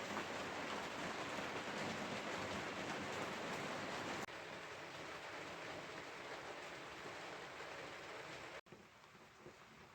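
Rain falls steadily outside a house as a soft, dense hiss, continuous and faint, with a brief drop in level near the end and no voices.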